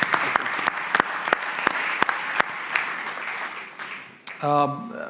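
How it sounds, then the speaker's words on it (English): Applause from a startup competition audience for a presenter who has just finished, steady broadband clapping with sharp individual claps standing out, fading near the end as a voice begins speaking. "If we can basically give him a round of applause"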